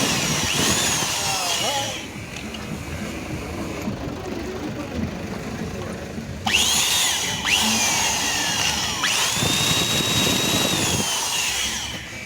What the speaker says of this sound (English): So let's try to drill in with 12mm.